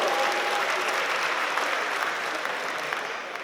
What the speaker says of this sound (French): Merci, merci, applaudissez le kyuksu encore.